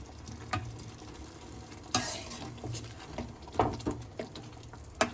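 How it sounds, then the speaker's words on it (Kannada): A spoon stirs pav bhaji in a hot pan, giving irregular scrapes and knocks over a faint sizzle, close by and without talking. "ಸ್ಟಿರ್ ಮಾಡು ಸಾಕು."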